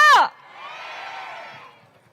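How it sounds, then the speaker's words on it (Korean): Crowd at a Korean presidential campaign rally in Seoul cheering and whooping, a loud amplified shout at the start followed by a sustained, moderately loud roar of many voices that slowly fades. "한 분 한 분 소개해드릴 때마다 여러분 뜨거운 환영의 박수와 함성 보내주실 준비 역시 되셨겠죠"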